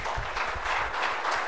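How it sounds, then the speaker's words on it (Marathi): An audience claps loudly and steadily at a birthday-special interview event for a former MLA in Kankavli. The sustained, dense crowd applause fills the whole moment with no talk. "जोरात टाळ्या वाजवूया"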